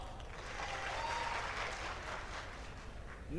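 A studio audience at a TV game show claps in a brief, steady burst of applause, fairly quiet and without talk.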